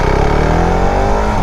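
A KTM 690 single-cylinder motorcycle engine runs close by, a loud, steady throbbing idle with a faint rising pitch and no voices over it.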